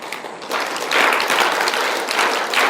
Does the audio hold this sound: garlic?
no